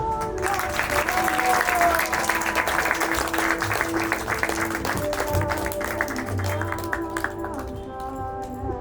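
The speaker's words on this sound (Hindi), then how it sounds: "नमस्ते, तालियां।" Audience claps after a devotional drama performance for a Narsimha Jayanti celebration, a sustained dense round of applause with faint tonal music or voices underneath.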